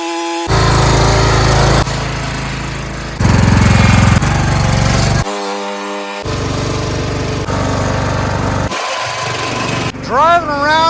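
A Craftsman lawn tractor engine runs loud and steady, its drone broken into choppy sections that shift in pitch and texture, with a brief voice-like tone near the end.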